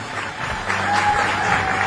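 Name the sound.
audience applause for teachers at a graduation ceremony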